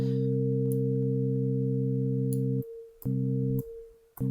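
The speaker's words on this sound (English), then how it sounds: "So now you've got reverb just on one partial, and because that partial is panned to the right" A steady, buzzy additive synth partial in Ableton Live, with stacked harmonics and Ableton reverb, panned right, holds, then cuts out briefly a few times, leaving a faint washy tail in the gaps.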